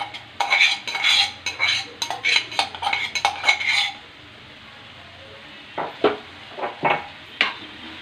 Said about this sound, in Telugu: తిప్పుకుందాం ఫ్రెండ్స్.